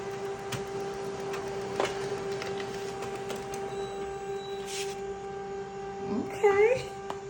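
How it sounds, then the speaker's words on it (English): A printer warming up to print product labels hums with a steady tone, broken by scattered ticks and clicks and a short whirring burst near the end. "So it's just preparing the printer."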